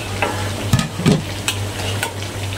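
Pieces of previously fried chicken are stirred into hot oil in a pan while cooking ayam masak lemak ketumbar, giving a steady close sizzle with a few scraping stir strokes and utensil clinks.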